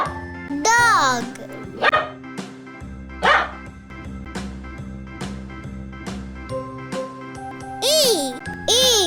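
A dog barks in a few sharp, separate yaps spread across the stretch, heard over tinkling music and a voice.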